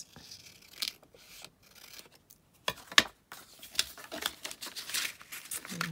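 Scrap strips of paper being trimmed down for a junk journal, with quiet crinkling, rustling and a few sharp snips spread across the clip, close by and fairly soft, with short silences between.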